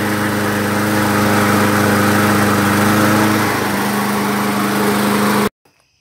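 A Toro PT-21 self-propelled lawn mower with a freshly cleaned carburetor runs steadily at a loud, even idle with a constant hum, then cuts off abruptly near the end, leaving near silence.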